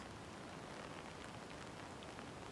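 Steady rain falling on a farm where goats are kept out in the downpour, a continuous soft hiss of drops with no voices.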